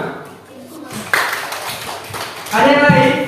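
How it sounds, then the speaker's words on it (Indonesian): Classroom applause for a pupil at a primary school lesson, with scattered claps building into a louder burst of group clapping near the end, mixed with children's voices. "Tepuk tangan untuk si Cika."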